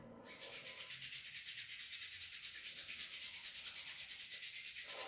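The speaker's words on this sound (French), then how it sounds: "Et on frotte les mains." Palms rubbing briskly together during a yoga breathing and centering practice, a steady close-up swishing friction in quick even strokes that runs for several seconds with no talk.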